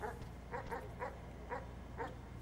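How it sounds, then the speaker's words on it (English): A dog in the video game Animal Well gives a series of soft, yappy barks, about six short woofs spaced irregularly, fairly quiet under a low background hum. "That's a dog."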